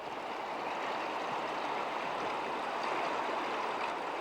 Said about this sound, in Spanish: el estrecho paso del río produce turbulencias y corrientes que superan los 60 kilómetros por hora